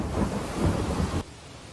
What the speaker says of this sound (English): a string of dangerous thunderstorms slamming the Northeast